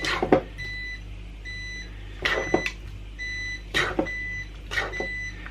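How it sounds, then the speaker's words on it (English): A bread maker beeps repeatedly when finished, in short clusters of electronic tones separated by pauses, with clattering kitchen noises in between. "That's the bread maker just telling me that it's finished making the bread"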